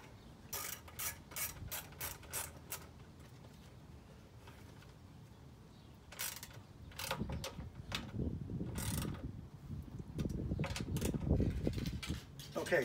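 Bursts of ratchet-wrench clicking as bolts on the air box of a Predator 212 small engine are snugged down, short runs of rapid clicks with pauses, then heavier handling noise near the end.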